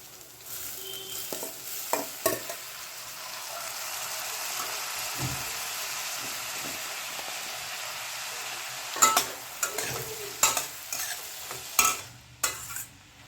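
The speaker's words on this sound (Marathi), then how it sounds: "कांदा आम्ही छान परतून घेतलेला आहे तेलामध्ये आणि आता आपण त्यामध्ये भिजवलेले हे वडे घालून देणार आहोत." Soaked bajra vadas fry with sautéed onion in a pan of oil, a steady sizzle running underneath while a utensil scrapes and stirs in sharp clustered strokes, busier toward the end; no one speaks.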